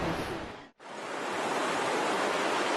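Continuous roar of surf breaking on the beach at Pantai Sepat, Kuantan, in rough, choppy weather, loud and close, with a brief dip near the start before the wash resumes steadily.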